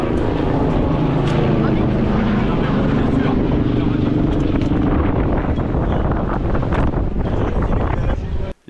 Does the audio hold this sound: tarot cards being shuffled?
no